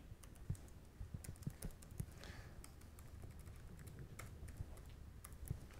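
A computer keyboard is typed on in quiet, scattered clicks while a name is entered, faint and close, with no voices.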